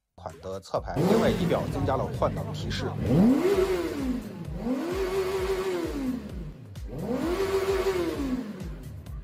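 A motorcycle fitted with a non-original aftermarket exhaust revs repeatedly, its engine pitch swelling and falling in three or four rising-and-falling sweeps, loud and fairly close, with a steady mechanical whir between revs.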